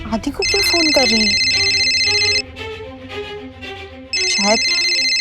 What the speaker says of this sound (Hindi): नंदिनी आदि को क्यों फोन कर रही है?